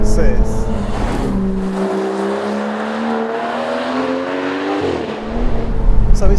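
Aston Martin Vanquish, a big heavy car, accelerating hard on a twisty road, its engine note climbing steadily through the revs, briefly dropping at a shift or lift, then pulling again, loud and close.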